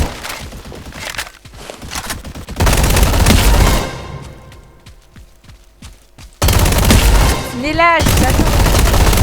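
Rapid bursts of gunfire in a Roblox combat arena game, loud and dense in stretches with quieter gaps between, while a player talks over the shooting.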